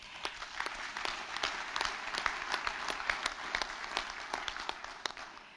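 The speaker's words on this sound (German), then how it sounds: "Applaus" Audience applauding at an election information evening in Neu-Isenburg, a steady moderate clapping with a few sharper individual claps standing out, continuing without talk for several seconds.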